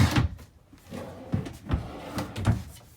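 Shoe drawers in a 2022 Dutchmen Astoria 2913FK fifth-wheel RV slide open and shut, a run of close, dull wooden thumps and knocks spaced about half a second apart.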